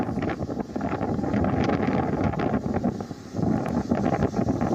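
Strong winds from Cyclone Biparjoy buffeting the microphone in Gujarat, a steady, loud, gusty roar with rumbling surges and no voices.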